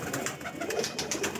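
A pair of teddy pigeons coo softly and steadily throughout the short stretch, with no talking over them.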